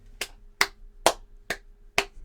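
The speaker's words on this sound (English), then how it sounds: "Why are you clapping though?" A person claps their hands five times at a steady, moderate pace. The claps are sharp and close, with a faint low hum underneath.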